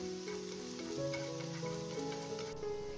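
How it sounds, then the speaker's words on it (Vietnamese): Minced shallots fry in hot cooking oil in a pan, a steady even sizzle running beneath background music with no talking. "Khi dầu ăn trong chảo bắt đầu nóng lên thì em sẽ cho tiếp là một muỗng ăn canh gốc hành baro băm nhỏ vào và mình sẽ phi cho hành baro được vàng thơm lên."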